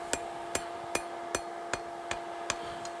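Eight evenly spaced hammer blows ring out from hot steel on an anvil while a fire poker is forged, each strike sharp and metallic with a lingering ringing tone, close and clear.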